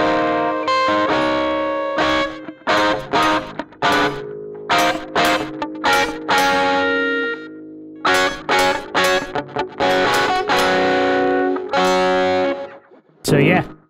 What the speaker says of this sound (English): it's a pretty nice little slapback with reverb and all